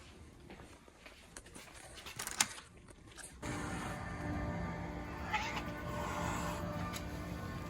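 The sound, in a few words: cat meowing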